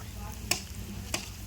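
Onions and green chillies fry in a pan with a steady sizzle, broken by two sharp clinks as a spoon stirs against the metal, close and moderately loud.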